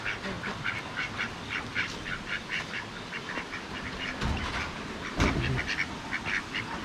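Ducks quacking repeatedly in a steady chatter at moderate distance over a noisy outdoor background, with a couple of louder thumps or bumps partway through.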